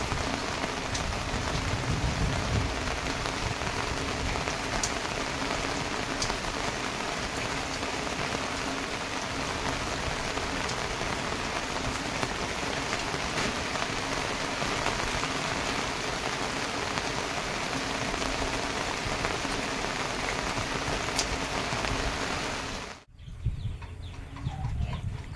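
Heavy rain pours during Typhoon Crising, a dense and steady roar of downpour drumming on surfaces with no talk, until it cuts off abruptly near the end.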